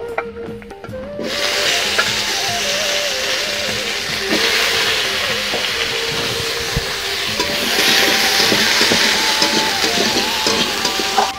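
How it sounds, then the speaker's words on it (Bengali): Chopped potatoes frying in oil in a kadai, a steady close sizzle with faint stirring and scraping, a burst of louder crackle as they hit the pan and another surge later. "আর যে আলুগুলো আমি কুচিয়েছিলাম সেই আলুগুলো এখন আমি কড়াতে দিয়ে দিচ্ছি।"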